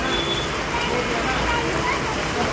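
Heavy rain pours down in Pune, a dense steady roar of water with no breaks, close and loud throughout, with traffic noise blended in beneath it.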